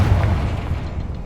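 A Confringo spell blast goes off in Hogwarts Legacy as a deep, rumbling boom that swells close and loud, then decays into a low roar over about a second.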